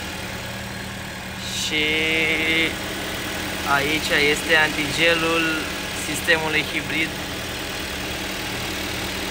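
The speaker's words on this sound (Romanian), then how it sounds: "cam așa se aude și motorul" A 2018 Ford Mondeo 2.0 Hybrid with automatic eCVT idles with a steady low hum under the bonnet while someone talks over it close by.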